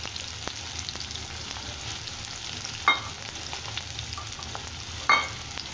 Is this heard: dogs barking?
no